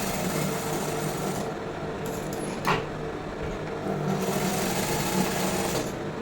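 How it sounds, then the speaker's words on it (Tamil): A sewing machine runs steadily, stitching a double line along the shoulder seam of a lined blouse, with a continuous mechanical whir close by and no talking. "ஷோல்டரில் 2 டைம் டபுள் ஸ்டிச் போட்டு ஃபினிஷிங் பண்ணிடுங்க."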